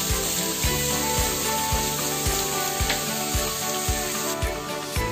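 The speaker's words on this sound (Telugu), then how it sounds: "పచ్చిమిరపకాయ కూడా వేసి ఫ్రై చేద్దాము. ఇప్పుడు తరిగి పెట్టుకున్న కూరగాయ ముక్కలు వేసేద్దాము." Chopped chayote and green chili pieces sizzle steadily in a hot pan, a continuous close frying hiss with regular soft knocks of stirring throughout.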